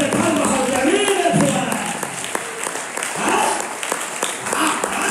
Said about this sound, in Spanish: ¡Denle fuerte palmas al que viene!